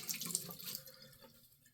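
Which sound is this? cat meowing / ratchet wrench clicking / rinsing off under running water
rinsing off under running water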